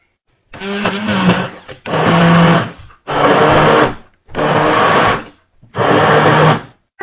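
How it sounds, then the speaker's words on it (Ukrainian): A blender whirring in five short pulses, blending garlic cloves for a cheese soufflé, each burst a couple of seconds long with brief pauses between, close and loud. "І збиваю це теж блендером."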